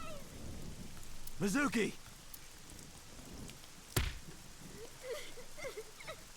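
Steady rain falls on a garden in the game AI: The Somnium Files, a continuous hiss of drops, with a short shouted call and a sharp knock breaking through.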